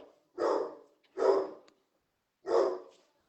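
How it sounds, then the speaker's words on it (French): A dog named Dexter barking indoors, three loud, close single barks spaced about a second apart with silence between. "voilà maintenant qui aboie"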